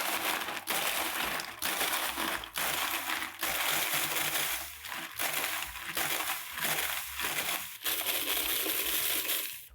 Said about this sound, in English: on a high speed, I'm gonna pulse this a little bit at a time until we get a nice crushed ice consistency